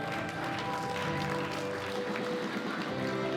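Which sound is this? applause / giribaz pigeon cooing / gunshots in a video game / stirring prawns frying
applause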